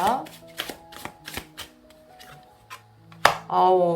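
Tarot cards are handled and turned over, giving soft snaps and taps scattered through a steady stream of close-up talking.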